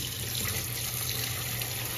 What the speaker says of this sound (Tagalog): Lagyan po natin yan ng tubig.